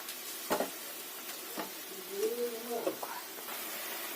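Fish curry simmers quietly in a pan as fish pieces are added, with faint bubbling and sizzling and a few soft plops and clinks spread across the clip.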